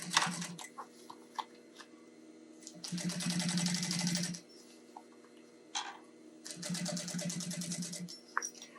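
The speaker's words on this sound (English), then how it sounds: "we're going to have to top stitch that side" Sewing machine top stitching a seam on a tote bag, with two sustained bursts of rapid mechanical needle chatter separated by shorter starts, ticks and handling noises.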